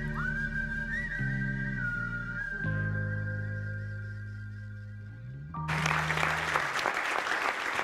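At an awards ceremony for the Grand Prix Diversité & Inclusion 2022, a held musical tone plays first, then an audience bursts into loud, sustained applause with whistles.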